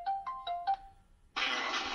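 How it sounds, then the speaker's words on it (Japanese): An outgoing phone call rings back in four short, clear tonal bursts, followed by a sudden loud burst of broadband noise. "今から関根さんに電話したいと思います"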